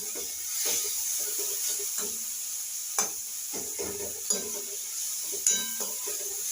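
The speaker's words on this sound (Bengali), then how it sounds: "হাই ফ্লেম দিয়েই ভাজছি তাড়াতাড়ি করার জন্য।" Fenugreek leaves and carrots fry over a high flame, a constant bright sizzle close up, with repeated spatula scrapes and a few sharp metallic clinks against the pan, and no talking.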